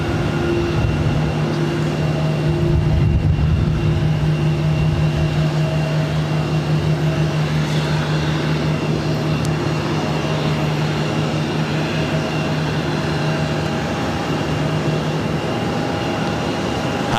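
An Airbus A330-200 in ghost livery runs its engines at an airport, a steady loud drone with tonal hum held throughout, no voices over it.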